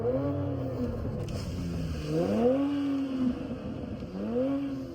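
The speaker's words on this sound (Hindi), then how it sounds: "तो भाई एक बार थोड़ा एग्जॉस्ट नोट सुन लेते हैं किस तरीके का होगा।" A modified BMW X5 with a custom exhaust revs loudly up close, rising and falling in three distinct throttle blips over a steady deep idle, with no talk.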